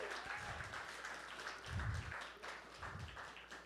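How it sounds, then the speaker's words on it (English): Audience applause at a summer shorts film festival and 48-hour filmmaking challenge, heard as faint, distant clapping that keeps going throughout, with low thumps under it. "I want to give him a big round of applause because he's the best."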